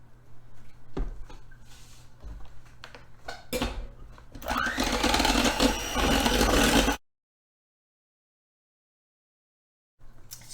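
An electric mixer whips cream to stiff peaks, its loud whirring starting after some clatter, running steadily for a few seconds, then cutting off into silence.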